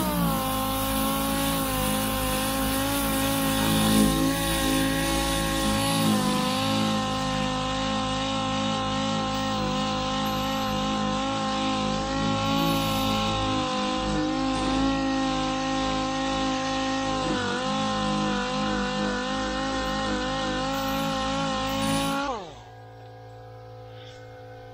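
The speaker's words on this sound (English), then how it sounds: "just use your sander, dig in the middle of it to prep it" An electric power sander grinds over dents on the door of a 1978 Dodge Aspen R/T under restoration, a loud, steady whine with slight pitch wavers that runs for about twenty-two seconds before cutting off abruptly.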